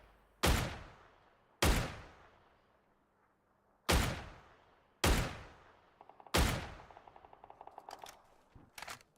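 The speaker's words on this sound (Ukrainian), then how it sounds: "Постріл." Five loud, sharp gunshots in PUBG on the Miramar map ring out at uneven intervals, each with a ringing decay, followed by a rapid string of lighter clicks and pops.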